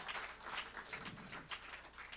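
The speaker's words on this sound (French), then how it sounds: "clap for Jesus" A church congregation claps for Jesus in a steady, continuous run of crowd applause. It stays moderately loud and fairly distant throughout, with no clear voice over it.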